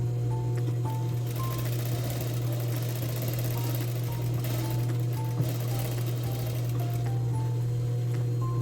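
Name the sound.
sewing machine stitching jeans fabric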